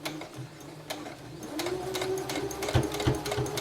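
Sewing machine stitching fabric for a simple dress, a steady close mechanical whir with a rhythmic needle chatter that builds slightly and runs continuously without talk.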